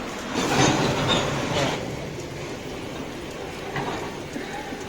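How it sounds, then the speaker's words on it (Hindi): A train pulling out of a station rumbles and clatters steadily along the tracks in the rain, a broad noisy wash with a faint squeal of wheels. "चलो मेरी ट्रेन चलती है, अब मैं भी चढ़ जाऊँ अंदर।"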